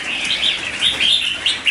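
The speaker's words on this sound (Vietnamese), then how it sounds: "chim Cao Bằng thì chất giọng đẳng cấp rồi, nó như giọng thác luôn anh em ạ, tông nó xoắn tít luôn" A caged red-whiskered bulbul from Cao Bằng, a wild-caught bird, sings a quick series of bright, twisting chirps and warbles, loud and close, with no voices.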